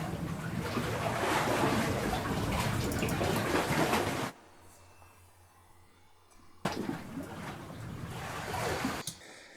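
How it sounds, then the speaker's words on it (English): Cave ambience sound effects in an electronic music track: a loud, rushing, wind-and-water-like wash that drops to a quiet low rumble for a couple of seconds, then surges back in. "And then after that, some more cave sounds."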